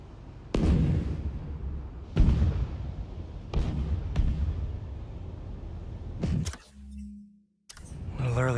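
Explosions in the Marvel's Spider-Man 2 video game: several sharp, loud blasts spaced a second or two apart, each with a rumbling decay, followed by a brief quieter stretch and a final burst.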